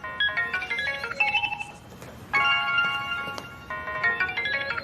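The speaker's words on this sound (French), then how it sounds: "Oh, mon téléphone." A mobile phone rings nearby with a bright electronic melody that repeats in short looping phrases. It breaks off briefly in the middle and then starts again, clear and fairly loud, with no talk over it.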